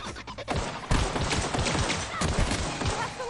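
Gun firing in the video game The Outer Worlds, a rapid string of loud close shots in quick bursts, dense and continuous after a brief lead-in.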